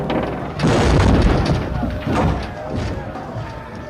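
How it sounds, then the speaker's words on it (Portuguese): A huge wooden beam crashes down onto a town square with a deep booming thud, followed by a second impact and a rolling rumble that slowly fades. "Uma imensa viga de madeira caiu dos céus, ressoando pela praça como um tiro de canhão"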